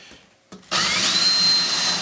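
A power drill bores a hole through wood backed by a sacrificial scrap board, starting after a short spin-up and then running as a loud, steady high-pitched whine with grinding.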